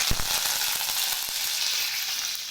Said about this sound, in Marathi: आता आपलं तेल गरम झालंय, त्याच्यामध्ये आपण मोहरी टाकू 1 चमचा, जिरं टाकलं 1 चमचा, कढीपत्ता टाकलाय